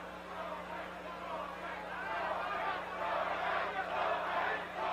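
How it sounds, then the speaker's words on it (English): A boxing arena crowd at a 1984 title fight between Wilfredo Gomez and Azumah Nelson roars and shouts in a continuous, distant wash, swelling slightly, with a steady electrical hum underneath. "crowd here is trying to get Gomez revved up."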